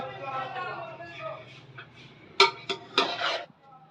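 Metal clanks sharply a few times as the lid comes off a pot of chicken pulao on the stove, preceded by someone talking quietly over a low hum.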